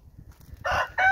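A rooster crows nearby in two loud bursts, a long call and then a second one, over a quiet rural background.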